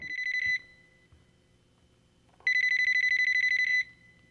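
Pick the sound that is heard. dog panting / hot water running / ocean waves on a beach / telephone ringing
telephone ringing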